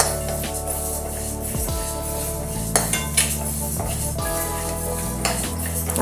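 Moong dal is roasted and stirred in a metal pan for halwa, with steady scraping and clinking of a spoon against the pan running throughout, a faint sizzle beneath, and a few sharper knocks.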